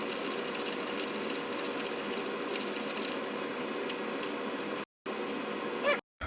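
Screws being driven in to secure the ignition coils on a Honda Accord during a tune-up: a steady, close mechanical whir with rapid rhythmic ticking that runs continuously, pausing briefly twice near the end.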